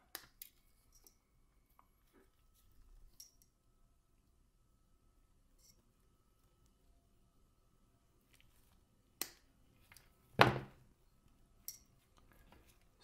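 A new cable for a TS100 soldering iron is snipped short. A quiet stretch ends in two or three sharp, close cutter snips with small handling clicks.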